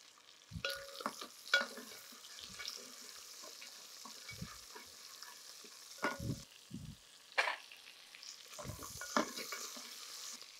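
Pieces of mutton fry and sizzle in a pan, with soft intermittent scrapes and clatters of stirring over a quiet steady hiss, heard up close with no talking.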